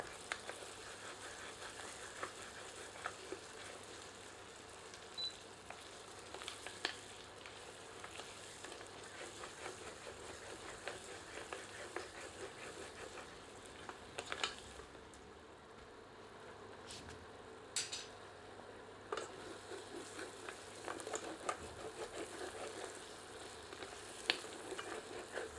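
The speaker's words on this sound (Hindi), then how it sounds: "अब इसे 2 से 3 मिनट मध्यम आंच पर भूनते हैं और करछी चलाते रहते हैं ताकि मसाला तली पर ना चिपके" Masala for goat trotter paya curry is roasted in a pan over medium heat, a soft continuous sizzle broken by frequent scraping strokes of a ladle, fairly faint and without talk.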